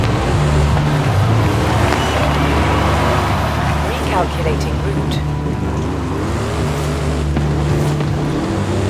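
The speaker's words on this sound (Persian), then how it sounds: "این ماشینی که ما اینجا داریم یه تیوتا هست و اف جی 40 هست فکر کنم و میخوایم بریم باش آفرود" Steady, loud engine drone of a tuned Toyota FJ40 off-roader in Forza Horizon 5, rumbling continuously with a speaking voice over it.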